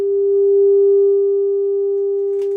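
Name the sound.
400 hertz test tone through amplifier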